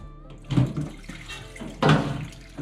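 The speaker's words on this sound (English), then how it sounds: "See how much more water I can get out of this thing." Water draining out of a Kenmore Elite front load washer into a pan, two gushing bursts of splashing pouring, close and fairly loud, with a quieter trickle between them.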